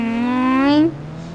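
A motorbike engine revs in the Indian Bike Driving 3D video game, a rising harmonic whine that climbs steadily for under a second, then cuts off abruptly into a low idle.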